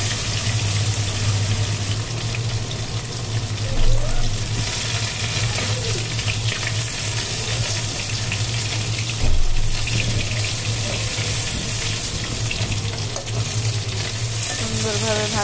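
Several fish frying together in a pan for a quick dinner, a loud steady hiss of hot oil running throughout with a low hum underneath and a couple of brief bumps, no speech.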